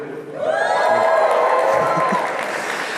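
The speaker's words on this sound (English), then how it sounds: "This is a huge crowd for me." A large crowd at a Turning Point event cheers, whoops and applauds loudly, swelling to a sustained roar of clapping and shouts that slowly eases; a voice briefly speaks over it.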